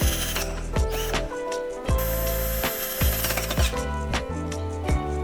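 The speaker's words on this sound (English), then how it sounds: "Tighten the screws with the screwdriver or the drill." Screws being tightened with a screwdriver or drill while fitting a bracket on a two-piece rear-outlet toilet, giving close, loud ratcheting and grinding bursts in an irregular series of about eight pulses, with no talk.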